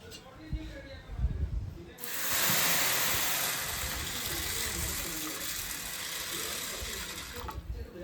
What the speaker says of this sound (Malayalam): ഇതിൽ കുറച്ച് വെള്ളം ഒഴിച്ചു കൊടുക്കാം